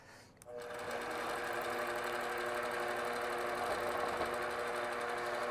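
A longarm quilting machine runs at a steady, fast whir while stitching a free-motion continuous curve without stitch regulation, a close mechanical hum with rapid needle chatter starting after a brief click.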